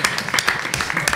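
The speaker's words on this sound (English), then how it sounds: "I didn't expect an applause" Audience at a panel on Black student-athletes claps in a brief burst of scattered applause, several hands close by, lasting about a second.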